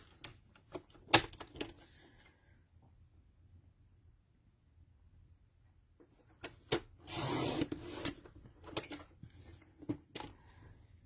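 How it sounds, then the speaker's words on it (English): A 1 inch strip of cardstock being cut for a handmade card, heard as scattered taps and handling clicks followed by a longer rasping slide of the cutter, then more light clicks. "Let's cut another 1 inch strip."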